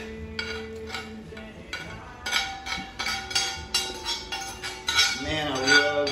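Chorizo is dumped into a cooking pot of browned nilgai meat, with repeated metallic clinks and scrapes of a utensil against the pot, close and moderately loud, and brief talk near the end.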